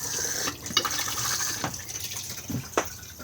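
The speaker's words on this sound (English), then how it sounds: "push the flush on the top" A Thetford cassette toilet in a Bailey Pegasus GT70 Ancona caravan flushes close by, water rushing and gushing into the bowl with a few sharp clicks and splashes along the way, no voices over it.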